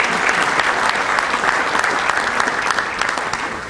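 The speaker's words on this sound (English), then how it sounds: "Let's have a round of applause for both these musicians that were here earlier." A breakfast-meeting audience claps for musicians, a dense, even round of applause that holds steady and then begins to fade toward the end.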